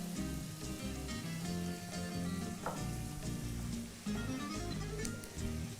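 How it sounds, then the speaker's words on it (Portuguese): Onion and garlic toasting in a pan for farofa, a soft, steady crackling sizzle with occasional stirring scrapes, even and fairly quiet throughout, no voices. "E aqui vou deixar torrar para trazer um pouco daquele sabor um pouco mais caramelizado, tanto da cebola quanto do alho."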